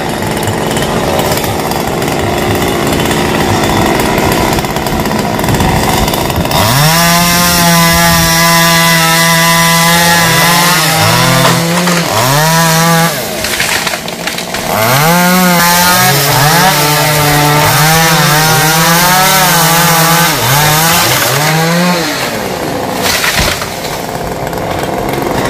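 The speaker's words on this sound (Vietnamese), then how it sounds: "Chắc là ba của hai sẽ cưa nguyên nhánh lớn." Chainsaw cutting large branches of a rain tree outdoors, loud and close, with the engine idling and then revving hard into repeated long cuts, easing off between them.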